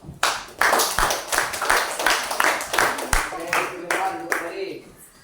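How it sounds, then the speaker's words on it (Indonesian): Classroom applause from elementary students for their classmates, a burst of brisk, fairly close clapping lasting several seconds before fading out. "Beri aplaus untuk teman-temannya dulu"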